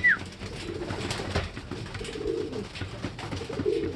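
Racing pigeons coo softly in a loft, a few low murmuring calls near and far over quiet rustling and shuffling, with one brief higher chirp at the start.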